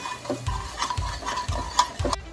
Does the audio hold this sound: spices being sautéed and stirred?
yes